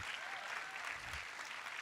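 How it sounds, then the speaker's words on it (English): Audience applause at a speech event at BYU, a brief, even wash of clapping from a large crowd heard throughout. "Another round of applause for Beyond Measure and Monica Moore-Smith."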